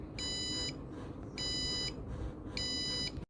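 A food delivery robot's buzzer sounds while someone blocks its path, giving three bright electronic beeps of about half a second each at an even pace, fairly quiet over low background noise.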